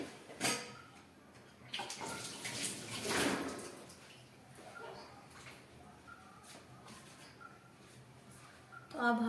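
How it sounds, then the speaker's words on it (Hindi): Water used to rinse leftover cream from a cooking pot is poured back into the collected malai for making ghee at home, a brief splashing pour with a few clanks of the vessel and quiet stretches between. "तो अब हम ये पानी भी इसी में ही डाल देंगे, जो हमने सारी मलाई हमारे बर्तन में से साफ़ की है।"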